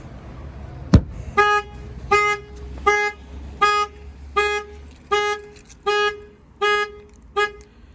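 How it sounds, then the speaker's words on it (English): A 2019 Ford Mustang car alarm, set off by a shock sensor, blaring in a regular pattern of loud horn blasts, each about a second apart, after a sharp knock on the window at the start. "that will fire off the alarm"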